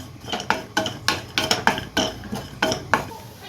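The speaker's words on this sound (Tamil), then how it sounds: "ஒரு கடாயில் கொஞ்சம் தேங்காவை இந்த மாதிரி வெட்டி வச்சுருக்கேன் அதையில் சேர்த்துப்போம் எண்ணெய் எதுவும் சேர்க்காம நல்லா வறுத்து எடுத்துக்கலாம்" Cut coconut is dry-roasted in a kadai without oil, a spatula clinking and scraping against the metal pan in a steady rhythm of about a dozen sharp, close strokes.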